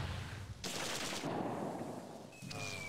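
Rapid machine-gun and rifle fire from the wartime strategy game Close Combat 2: A Bridge Too Far rattles in short sustained bursts, fairly faint and distant, with a brief pause between volleys.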